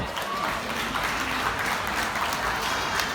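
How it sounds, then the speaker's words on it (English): An audience at a Butlins show claps together, a steady dense applause that carries on throughout. "clap."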